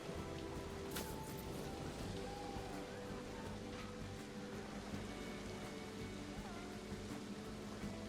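Steady rain falls in the video game Planet Coaster 2, a constant soft patter filling the scene at low volume, with faint park ambience underneath and no talking.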